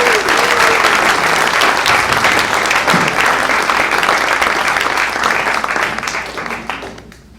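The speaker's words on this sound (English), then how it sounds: "We can applaud now." An audience bursts into loud, sustained applause at a 90th anniversary celebration for jazz musician Arlen Asher, dense clapping from a large crowd that holds steady and then fades out near the end.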